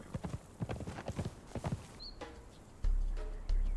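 Rhythmic clip-clop of horse hooves while riding in the video game Conan Exiles, a steady galloping beat for about two seconds before thudding impacts and a short bright chirp take over.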